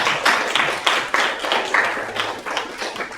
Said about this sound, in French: On applaudit Spider-Man quand même